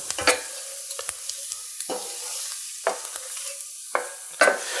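A roux of flour, vegetable oil and butter being stirred in a pan, with a steady soft sizzle and several distinct scraping strokes of the spoon at roughly one-second intervals, close and fairly quiet, with no talking.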